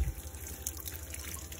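Tap water runs and splashes faintly over a Samsung T7 Shield rugged portable SSD as it is rinsed, a soft, continuous trickle with no voices.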